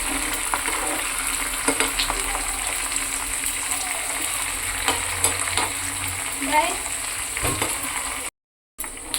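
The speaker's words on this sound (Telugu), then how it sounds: "తాలింపు అయితే బాగా వేగిందండి." Tempering spices with curry leaves and coriander sizzle and crackle steadily in hot oil in a pan, a ladle scraping and stirring through it at close range, with a short silent gap near the end.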